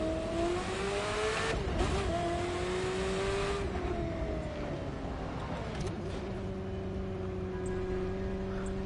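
A car in The Crew 2 racing game, played with a Logitech G29 wheel on PS5, drones with a loud, continuous engine note whose pitch climbs and shifts as it accelerates and changes gear, with no talking.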